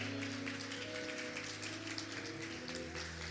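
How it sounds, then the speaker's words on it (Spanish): A church congregation claps together during a worship service, a dense steady patter of many hands with no break in the rhythm, heard over a low sustained musical hum. "Le damos un fuerte aplauso al Señor en esta hora."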